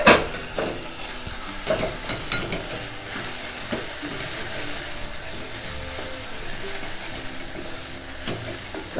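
Dried shegal flower vegetable stirred and sautéed in a pan, with a spoon scraping and clinking against the metal over a continuous soft sizzle and hiss, close up, with no talk.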